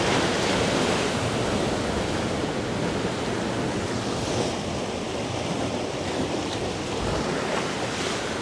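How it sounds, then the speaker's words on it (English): Continuous roaring wash of Caribbean surf on the shore at Portland, Jamaica, broad and steady with slight swells, heard up close with wind buffeting the microphone and no voices. "You can sit right here and have the waves wash upon you."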